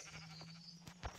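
Sheep bleating in the video game Minecraft, a short faint bleat near the end over a quiet steady background hum.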